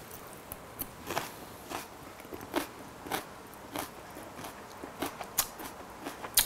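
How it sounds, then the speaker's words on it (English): Crunchy Asian chicken salad being bitten and chewed up close, with a series of sharp, irregular crackling crunches over a quiet background and no talking. "I don't know if you can hear that crunch."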